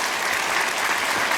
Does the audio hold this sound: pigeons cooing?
no